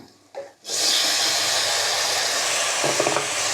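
Chopped tomatoes are added to a hot pan while cooking country chicken, bursting into a loud, steady sizzle that holds after a brief clatter, with no talking.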